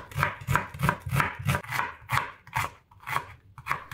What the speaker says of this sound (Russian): Беру 2 большие луковицы. Лука не жалейте. Режу на небольшие тонкие полукольца.